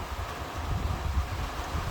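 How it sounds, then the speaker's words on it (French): Wind during a moderate thunderstorm near Grenoble in the Alps blows in a steady low rumble, gusting against the microphone with a soft rushing hiss. "Ah, le vent."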